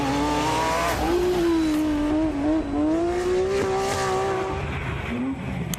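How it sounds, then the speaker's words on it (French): A Porsche 997 GT3 rally car drives at a rally, its engine note steady and loud with a shifting pitch that rises and dips as it accelerates, with no talk. "Gilles Nantais, le Savoyard sur sa Porsche 997 GT3 du team de Beyaco."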